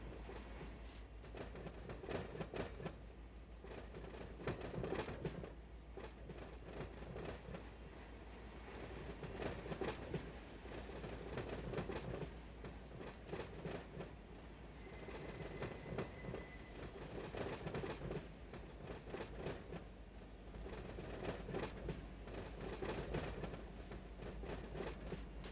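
Railroad simulator game Run8 train noise during yard operations at West Colton: rolling freight cars with rhythmic clickety-clack and a brief wheel squeal, a steady low rumble throughout, fairly quiet, no talk.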